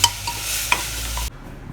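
Country chicken pieces being sautéed in a pot for soup: a steady close sizzle with occasional stirring clinks, ending abruptly as the sound cuts to near silence.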